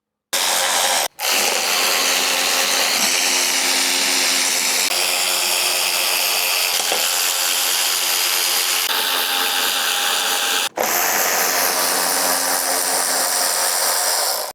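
A power tool drives steadily for about fourteen seconds, taking out the crankcase bolts on a Honda GVC160 lawn mower engine, its loud continuous whir broken only by two brief stops.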